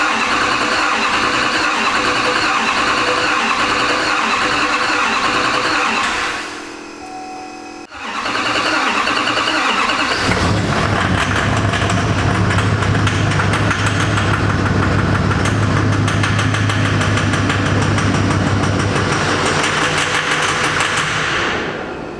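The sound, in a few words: LML diesel truck engine starting and running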